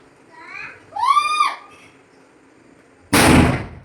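A single loud Diwali firecracker bursts sharply near the end, preceded by a short rising whistling squeal and a quiet pause.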